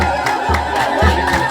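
A church congregation ululates during a healing service, dense overlapping high trills and shouts from many voices with rhythmic low thumps, loud and close.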